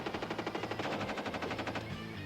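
Rapid automatic gunfire rattles out in the desert, a fast even stream of loud sharp shots lasting about two seconds before cutting off, with no voices.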